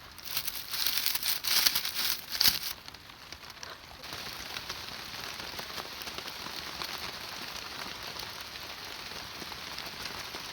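Steady rain patters on a field shelter roof, a dense hiss of drops with a few louder bursts early on, then an even, continuous heavy downpour.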